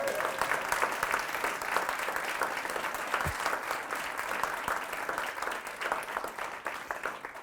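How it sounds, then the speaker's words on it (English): An audience at a PyData London conference talk gives a long, steady round of applause, dense overlapping claps holding at an even level throughout with no voices over them. "Round of applause."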